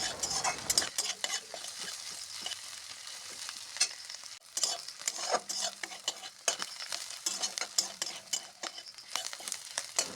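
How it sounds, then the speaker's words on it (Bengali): Onion, garlic and green chilli frying in oil left from frying dried fish, with steady close sizzling and repeated scraping stir strokes of a spatula against the pan, no talking. "শুটকি ভাজা তেলে পেঁয়াজ, রসুন, কাঁচা লঙ্কা দিয়ে দিলাম।"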